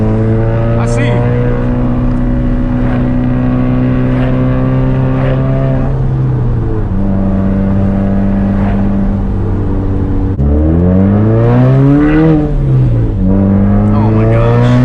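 A 400-horsepower built Subaru engine revs hard while driving in 100-degree heat, with a loud, steady engine drone that rises and falls through repeated gear changes and climbs sharply near the end.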